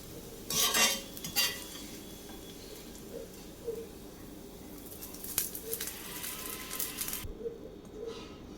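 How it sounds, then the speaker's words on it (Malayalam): Crispy fried okra scooped from a pan after the flame is turned off, a few metal spoon scrapes and clinks against the pan over a faint fading sizzle, close and fairly quiet. "നമുക്ക് ഫ്ലെയിമൊക്കെ ഓഫ് ചെയ്തിട്ട് ഇതും കൂടെ കോരിയെടുക്കാം"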